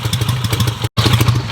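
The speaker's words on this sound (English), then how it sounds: "Engine's all fired up." The engine of a 1953 BSA Golden Flash motorcycle runs steadily just after starting, close and loud, with a rapid, even beat. There is one brief dropout near the middle. No one speaks.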